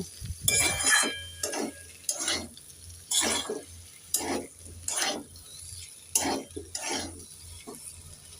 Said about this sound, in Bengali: ভেজে রাখা কুঁদরি এবার নেড়ে চেড়ে ভালো করে তিন চার মিনিট কষে নেব